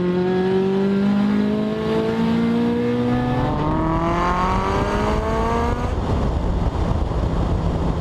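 Turbocharged Scion FR-S accelerating hard, engine note climbing steadily through several seconds with rising harmonics before easing off into a rougher, steady drone; loud, close and without talk.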